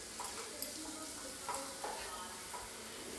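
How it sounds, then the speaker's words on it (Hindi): Carrot and beans fry in a pan over a medium to low flame, a soft sizzle under a few scraping stirs from a spatula, fairly quiet and close. "अब मैं इस सब्ज़ी को एक बार चला दूँगी।"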